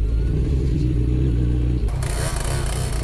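A loud motorcycle engine rumbles at idle, then revs up sharply near the end with a rising, rattling roar; no voices.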